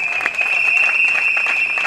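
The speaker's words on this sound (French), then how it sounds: "Monsieur Sekerigen, lorsqu'il va passer, on va l'applaudir" A crowd at a political party gathering applauds loudly and steadily, dense clapping close by with a constant high tone running underneath.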